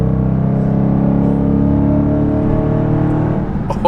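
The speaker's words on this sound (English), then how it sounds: "Here we go, 5th gear roll." A BMW M3 accelerating hard in a fifth gear roll, a loud, close, sustained engine drone with a steady droning hum that holds strong throughout, ending with a brief clatter.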